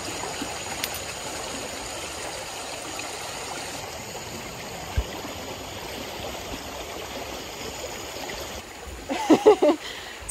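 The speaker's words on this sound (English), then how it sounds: "Now we're on this tiny little creek here to catch our lunch." A tiny creek in western North Carolina trout country flows and trickles steadily nearby, a continuous watery hiss with a few louder splashes near the end and no talking.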